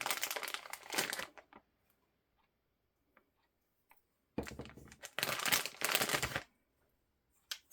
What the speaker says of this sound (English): let's get rid of that noisy bag